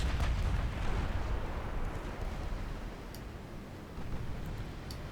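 Battleship secondary guns firing armor-piercing rounds in a naval strategy game, a dense rumbling barrage of low booms rolling on at moderate loudness with a few faint sharper cracks, no voices.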